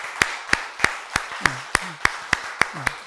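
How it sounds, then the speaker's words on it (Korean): A church congregation claps in honour of its officers, a steady rhythm of sharp, evenly spaced claps about three per second, with a faint voice murmuring underneath. "우리 임원 여러분을 위해서 우리 박수하겠습니다."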